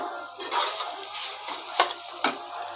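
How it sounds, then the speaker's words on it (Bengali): Snake gourd and sesame sizzle steadily in a hot pan while a spatula stirs, with a few sharp scrapes and clacks against the metal. "আমি এর সঙ্গে দিয়ে একবারে ভেজে নিচ্ছি"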